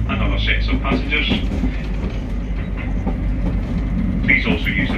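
A three-carriage passenger train on an evening service rumbles steadily with a rhythmic clatter of wheels, while an onboard announcement voice plays over the continuous running noise.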